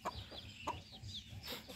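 Yellow chickens with white tails, a breeding pair being given away, cluck softly in short repeated calls, faint and somewhat distant, with no talking.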